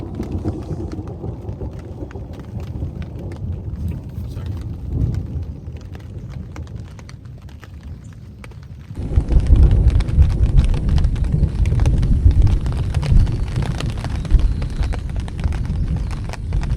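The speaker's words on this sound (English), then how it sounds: "first rain in 8 days" Rain shower at a lake campsite in Algonquin Provincial Park, a steady patter on surfaces and canvas that swells sharply to a heavier, louder downpour halfway through, with low rumbling beneath and no talk.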